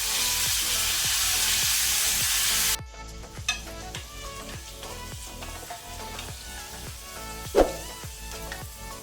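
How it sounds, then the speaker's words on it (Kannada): Onions frying on a medium flame for lemon pepper chicken: a steady sizzle, loud and hissing at first, then quieter frying with a regular rhythm of stirring scrapes and one sharp knock. "ಈಗ ಇದನ್ನು ಮೀಡಿಯಂ ಫ್ಲೇಮಲ್ಲಿ ಸ್ವಲ್ಪ ಪಿಂಕ್ ಆಗೋ ತನಕ ಫ್ರೈ ಮಾಡಿದರೆ ಸಾಕು"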